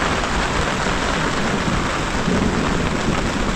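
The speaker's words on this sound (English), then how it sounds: "Hear a little thunder." Heavy torrential rain pounding steadily on a surface at a remote West Virginia campsite, with a low rumble of thunder rolling underneath the dense, constant downpour.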